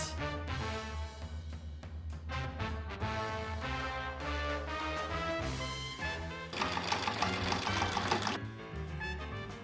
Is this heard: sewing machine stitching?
yes